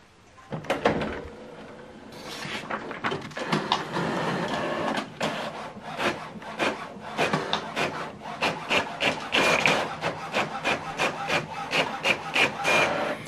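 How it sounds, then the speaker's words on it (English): An HP OfficeJet Pro printer running off a single colour page, close and moderately loud, with mechanical whirring, a paper-feed rush, then a long run of rhythmic clicking print-head passes. "This is the document we printed out, single page, colored."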